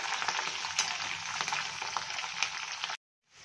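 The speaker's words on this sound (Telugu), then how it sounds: "ఇప్పుడు పచ్చిమిర్చి, కరివేపాకు వేసుకొని వేయించుకోవాలి." Green chillies and curry leaves frying in a pan for pulihora, a steady bright sizzle held close and loud for about three seconds before cutting off sharply.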